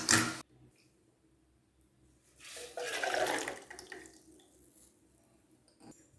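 Boiled water poured from a pot into another vessel in a kitchen while making musk melon kheer, a steady splashing pour lasting over a second after a brief clatter, close and fairly loud with no talk.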